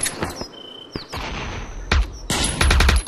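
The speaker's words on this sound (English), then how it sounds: "Can you please stop shooting at me" Rapid gunfire bursts from the VR shooter game Aim XR, close and loud, with repeated automatic volleys between brief quieter gaps.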